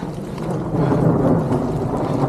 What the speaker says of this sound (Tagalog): Umulan na.